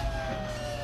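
A steady electronic police siren tone in Grand Theft Auto V drones under faint background noise, brief and fairly quiet.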